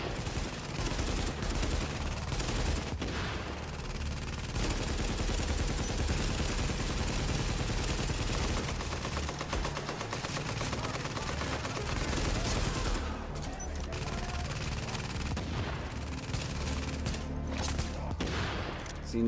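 Gunfire from a sniper rifle in the video game The Division crackles continuously with dense rapid shots and battle noise, loud and steady with no talking.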